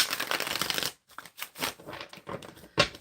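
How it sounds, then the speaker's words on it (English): A deck of tarot cards shuffled close by, giving a dense riffling flutter for about a second, a brief pause, then several shorter bursts of card slaps and riffles. "Okay, shuffling for Mohammed."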